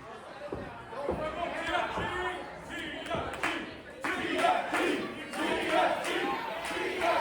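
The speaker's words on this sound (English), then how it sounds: "Crowd here rallying behind TFG" A crowd at an independent wrestling event rallies and cheers in rising, chant-like surges, with bursts of shouting and thuds over a busy arena murmur and a voice talking through it.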